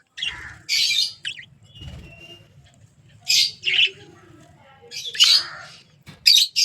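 Caged lovebirds, with a pair including a budgerigar, let out loud, shrill squawks and chirps in bursts over a low background murmur.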